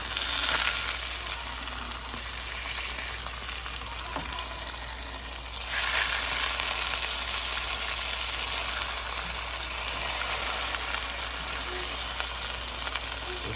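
A cheese-and-shrimp stuffed chicken breast fries in a pan, with a continuous close sizzle that swells after a brief shift midway as the piece is flipped.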